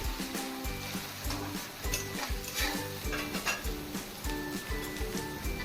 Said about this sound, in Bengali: আদা রসুন বাটার পেস্টটা দেওয়ার পরে এটাকে সুন্দরভাবে ভেজে নিতে হবে দু থেকে তিন মিনিট